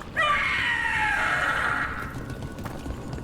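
Loud shrieking cry of the Gloomhowler, a blighted monster in Dragon Age, a strained harmonic wail that holds for about two seconds, then fades into rumbling game ambience.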